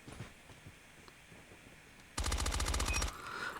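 A rapid burst of automatic fire from an MX9 in a ranked shooter match, a loud, tightly spaced volley of about a second that stops abruptly after a quieter stretch of game ambience.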